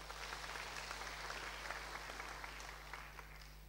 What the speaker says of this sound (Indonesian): Boleh tepuk tangan dulu buat Tuhan